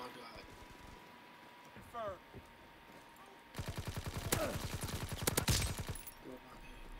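Rapid automatic gunfire bursts from Call of Duty WW2 rattle out in a quick string of sharp shots, preceded by quieter ambient battle noise and faint in-game radio voice chatter.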